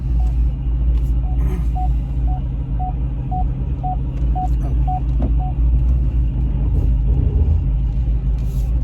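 Cadillac CTS-V Coupe cruising gently, its engine giving a steady loud low rumble throughout, with a faint regular electronic beeping in the cabin.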